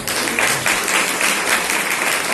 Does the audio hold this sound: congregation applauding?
yes